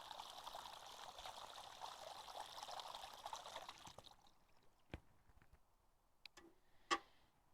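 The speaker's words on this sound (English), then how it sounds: "Next, you want to put water into the hole. Fill it up about halfway with water." Water pours steadily into a planting hole in the soil for about four seconds, a faint, soft rushing trickle, then stops, leaving a few light drips and taps.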